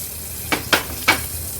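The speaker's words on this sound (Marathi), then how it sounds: "एका बाजूनी बांगडा आपण 1-2 मिनिटासाठी तरी लो टू मीडियम फ्लेमवर व्यवस्थित तळून घेऊया" Bangda (mackerel) fries in oil in a pan over a low-to-medium flame, Agri-Koli style, a steady close hiss of sizzling broken by three brief, louder spitting bursts, with no one talking.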